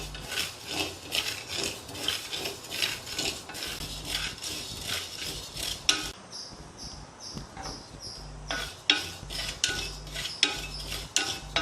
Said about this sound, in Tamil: இப்போ எல்லாத்தையும் இதை தனித்தனியாக வறுத்து எடுத்துடலாம் செவக்க